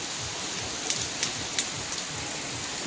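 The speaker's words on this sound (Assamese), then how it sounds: "বৰষুণ আৰু বেছিহে হৈছে কমা নাই লাহে লাহে বাঢ়ি আছে বৰষুণ" Steady, heavy rain falls outdoors in a Mising village in Assam where elephants are being walked, forming a continuous dense hiss with a few sharper drops pattering nearby. No one speaks.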